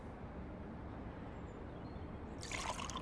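Liquid pours steadily in a Brewpub Simulator brewing session while making a spicy red ale, a soft continuous trickle heard quietly throughout, with a brighter splashing burst near the end.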